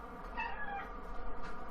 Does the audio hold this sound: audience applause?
no